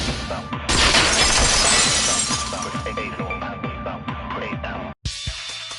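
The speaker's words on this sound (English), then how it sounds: "If it wasn't the window, then what broke to make that sound? A vase." A vase shatters in the Danganronpa 2 video game, a loud crash followed by a long, bright spray of tinkling shards that fades off, then a short sharp break after a brief silence.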